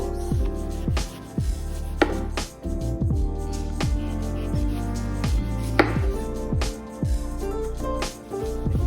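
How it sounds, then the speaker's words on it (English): A kitchen knife works through apples for an apple pie taco recipe, giving a run of sharp, close knocks and scrapes against a hard surface at an uneven rhythm, with no talk. "what you want to do is peel the skin off of the apples"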